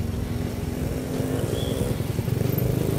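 Automatic (matic) scooter engine revving up on the throttle, a steady close-up motor drone with a rhythmic pulsing buzz that holds loud for the whole stretch, with no talking over it.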